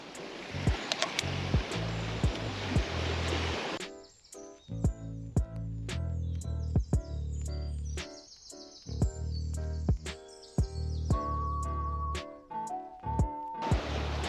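Ocean surge at a jetty in Dana Point, California: a loud rush of washing, splashing water at the start that drops away, followed by close knocks and clatter and faint tones.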